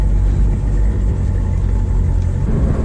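An old Ford Mustang with weak brakes and rough steering runs at a steady idle, its deep continuous rumble filling the clip close up with no talk over it.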